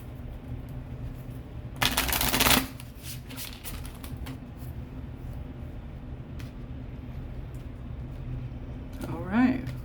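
Deck of oracle cards shuffled in a short burst of riffling near the start, with quieter card handling and a faint voice around it.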